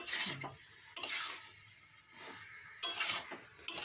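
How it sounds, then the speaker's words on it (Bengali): Oil sizzles steadily in a pan frying pasta, broken by a few sharp bursts of a spatula stirring and scraping against the metal. "ভেজে নিই"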